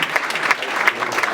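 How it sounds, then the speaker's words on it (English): Brief burst of audience applause at a business community meeting, a short patter of claps that swells and fades over about a second, with no talk over it. "So give them a round of applause."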